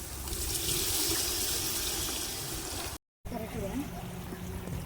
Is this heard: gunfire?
no